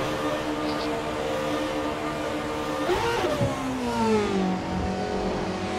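A Formula 1 car engine in the Formula 1 2012 racing game at Kuala Lumpur hums steadily, then rises and falls in pitch midway through in a quick rev before settling into a lower drone.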